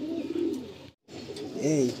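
A Giribaj pigeon coos in low, rolling calls nearby, with a brief silent gap between two bursts of cooing.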